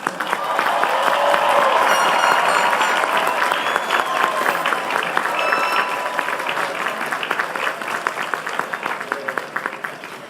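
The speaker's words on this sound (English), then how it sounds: "A round of applause." A large crowd applauds graduating seniors at a 2019 college commencement ceremony, loud dense clapping that swells early and slowly thins over about ten seconds, with a few cheers mixed in.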